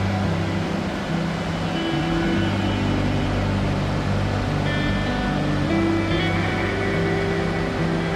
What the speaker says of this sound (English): That is the water gushing from where we were at the top, where the 3 bridges were.